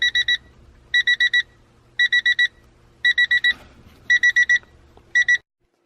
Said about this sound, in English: Sorry for the beeping, that's another thing we gotta fix.